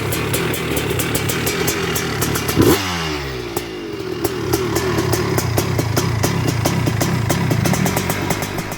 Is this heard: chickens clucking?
no